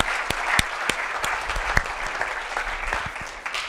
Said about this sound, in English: we should give them a round of applause before the end of the semester